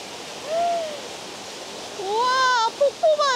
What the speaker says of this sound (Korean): 아니 이게 웬 폭포야?